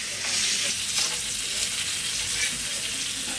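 Hilsa fish pieces frying in hot oil in a home kitchen, a steady bright sizzle with crackling spatter running continuously and fairly close, with no voices over it.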